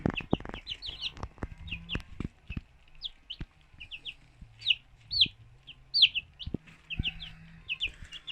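Newly hatched chicks at a home poultry-breeding setup peep in repeated high, thin chirps, with some lower clucking and scattered knocks and scuffles nearby.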